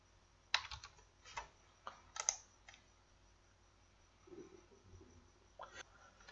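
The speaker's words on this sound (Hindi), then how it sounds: "यहां पे मैं टाइप कर देता हूं।" Keys on a computer keyboard tapped to enter a captcha answer on a government housing-scheme website, a few quick separated clicks in short bursts, close and fairly quiet, with no talk over them.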